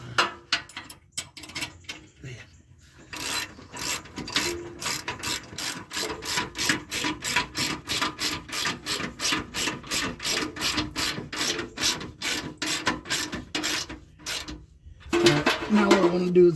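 Ratchet wrench tightening bolts on a steel bumper for a Jeep JK, a long run of rapid, even clicking strokes up close, with a brief pause near the start and a louder scrape at the end.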